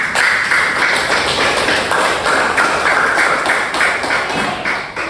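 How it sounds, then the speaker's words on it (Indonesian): Students in a classroom applaud together, a dense, loud patter of many hands clapping that continues steadily throughout and tapers slightly at the end. "kita aplaus untuk kalian semua"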